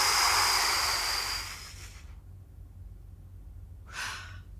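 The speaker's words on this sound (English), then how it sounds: "So you're going to breathe everything out." A long, steady exhalation pushing all the air out of the lungs, a breathy rush that fades away after about two seconds, followed by a short quiet intake of breath.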